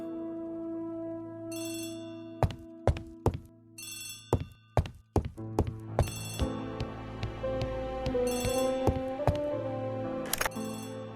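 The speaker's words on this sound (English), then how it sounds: "Poirot, the telephone." An old-fashioned telephone bell rings in bursts in the video game Agatha Christie: The ABC Murders, its ringing repeated several times over soft music and interspersed with sharp clicks and thuds.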